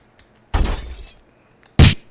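Glass shattering effect triggered when a goal is scored in a simple Python-coded game, heard twice: a longer crash, then a second sharp, bright smash after a short pause, both loud and without talk.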